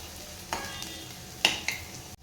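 Onions frying in oil for a fish curry tempering, giving a quiet background sizzle broken by a few soft stirring scrapes and clinks of a utensil against the pan.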